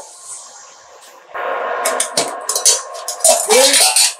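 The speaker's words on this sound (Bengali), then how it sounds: "এবার কড়ার থেকে টিফিন কৌটোটা সাবধানে তুলে রাখছি" A metal tiffin box is lifted out of a kadai used for steaming prawn chachori, with clanking metal knocks, scrapes and rattling utensil sounds after a quiet start, close by.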